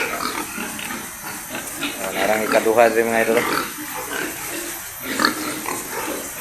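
Pigs grunting inside an association's farm building, a steady mix of grunts and snorts from several animals nearby, with someone talking over them throughout.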